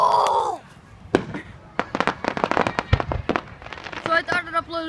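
Fireworks at the Thursday Jenkins display burst in a quick, irregular string of sharp bangs and crackles of varying loudness, with voices cheering and talking among them.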